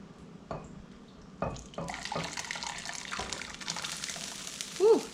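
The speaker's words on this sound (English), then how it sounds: "I'm about to take this off of the heat and pour it into a bowl." Dark, rich giblet gravy pours from a hot pan into a bowl, a close wet gush and splatter that builds after a couple of knocks of the pan, ending with a short squeak.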